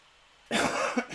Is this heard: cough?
yes